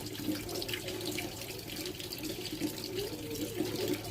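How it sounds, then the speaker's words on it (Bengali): Running tap water pours steadily into a kitchen sink while raw meat is rinsed, a continuous moderate splashing rush with no talk. "মাংসটা যেহেতু বেশি ধুলে টেস্ট থাকবে না, তাই আর একবার ধোবো।"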